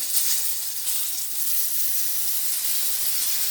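Loud, steady sizzling hiss of boiled water poured into a hot frying pan of pike cutlets, close up and continuous, with no voices.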